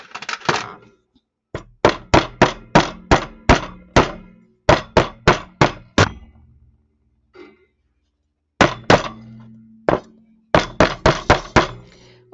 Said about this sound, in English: I'm just hammering it to make sure that it's really flat.